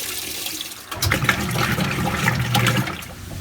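A washing machine runs a laundry wash with distilled white vinegar, giving a steady rush of churning, splashing water that swells after a quieter start and stays loud and close, with no talking.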